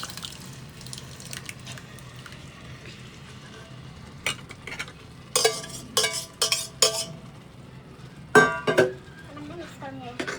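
Boiled vegetables stirred into cooked masala in a pot, giving a few scattered clinks and wet scraping bursts in the second half over a quiet background hum.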